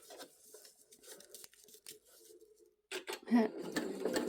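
A sewing machine stitching fabric in short stop-start bursts, quiet and close, with a person talking between and over the runs.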